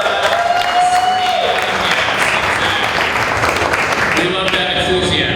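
An audience at a local history talk in Historic Red Hook breaks into sustained applause, a dense wash of clapping from a crowd that carries evenly for several seconds.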